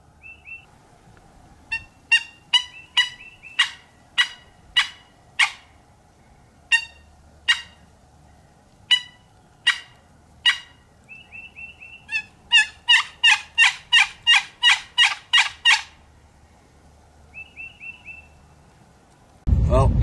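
A series of sharp, rapid calls from the woods during an Indiana youth wild turkey hunt, some single and some in quick bursts, fairly close and clear, with brief whistled notes between them and a loud noise at the end.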